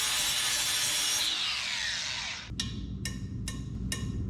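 Sawzall reciprocating saw cutting stainless steel, a loud harsh buzzing rasp that slows and fades, followed by four short separate bursts of cutting, heard close up.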